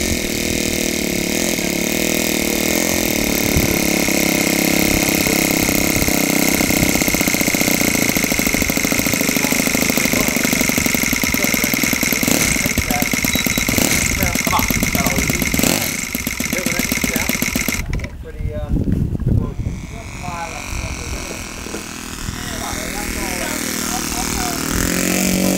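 A scale Jenny model biplane's small engine runs loud and steady with a buzzing, chainsaw-like drone, dipping briefly near the end before picking back up, with voices talking faintly over it.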